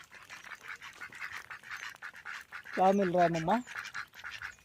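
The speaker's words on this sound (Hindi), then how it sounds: "बतख देखिए किस तरह से पानी में एंजॉय कर रहे हैं।" White ducks on water give a short burst of loud, nasal quacks near the middle, with a person talking close by before and after.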